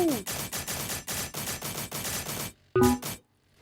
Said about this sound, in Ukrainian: По тобі стрілять?